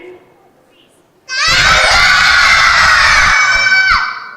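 A crowd of children in the audience at a Vacation Bible School puppet show shouts loudly together in a sustained, overlapping roar lasting about three seconds, then fades abruptly.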